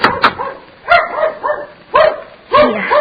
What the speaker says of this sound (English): Oh, that sounds like Mickey barking.